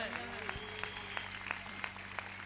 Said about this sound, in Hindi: एक जोरदार ताली बजाकर,